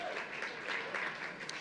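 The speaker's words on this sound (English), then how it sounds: "applause to that" Audience applause at the TrevorLIVE LA 2018 awards event, a steady wash of many hands clapping that holds at an even level throughout, with a few faint voices mixed in.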